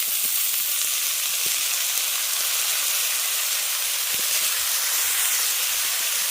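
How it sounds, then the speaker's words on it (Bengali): Potato, eggplant and banana flower frying with mustard in a pan give a loud, steady, close sizzle and hiss that runs unbroken throughout, with no voices. "ভেজে নেওয়ার পর আমি আগে থেকে যে আলু বেগুন আর মোচাটা কেটে রেখেছি সেটা এর মধ্যে দিয়ে দেবো"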